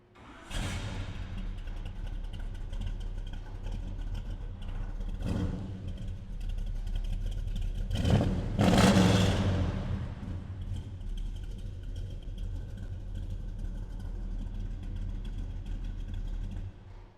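A 1968 Chevrolet C10 pickup engine with an aftermarket cam idles with a low rumble, briefly revving around the middle, then settling back to a steady idle.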